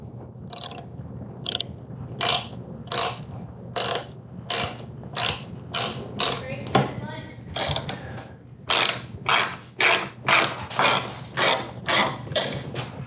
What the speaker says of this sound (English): so we can see that that is now tapped and threaded.